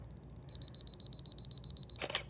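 A camera's self-timer counting down gives a rapid, even series of high beeps at close range, about a dozen pulses in quick rhythm, ending with a sharp click of the shutter.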